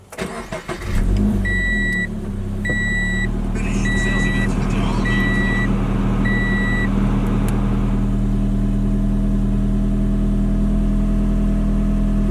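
A 2019 Subaru BRZ sports car starting by push button: a chime sequence of repeated beeps, a quick cranking catch, then the engine settles into a steady, close idle hum that continues to the end.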